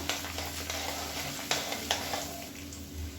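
Chana dal fries in hot oil in a pan, giving a steady close sizzle with occasional stirring scrapes and clicks on top.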